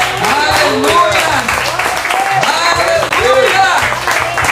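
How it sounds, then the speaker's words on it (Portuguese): A church congregation applauds in praise during a worship service, steady clapping and cheering filling the room under musical tones and voices throughout. "dar um grande aplauso ao Senhor"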